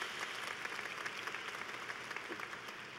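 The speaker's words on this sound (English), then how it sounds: "Join me in a round of applause for your parents." A graduation audience at the Texas Tech spring commencement claps in sustained, even applause, heard faint and distant through a large hall.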